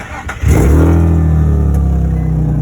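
A 2006-engine Nissan G35 with headers and bolt-ons cranks briefly, catches, and settles into a loud, deep, steady idle close by.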